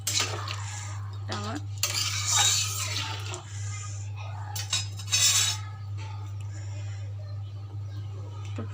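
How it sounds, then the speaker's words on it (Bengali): A spoon stirs food in a metal cooking pot, with scraping and clinking of utensil against the pan in bursts over a steady low hum, and a brief spoken word. "ভালো করে নাড়াচাড়া দিয়ে"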